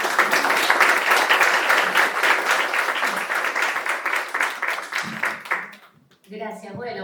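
An audience at an evening talk on Mary Magdalene and esoteric Christianity claps warmly and steadily, the applause gradually fading until it dies out and a single voice begins speaking.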